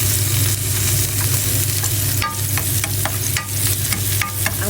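Garlic hits a pan of browned meat for a bitter gourd dish, a loud continuous sizzle with scattered crackling pops and scraping stirs.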